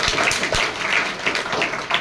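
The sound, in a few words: audience applause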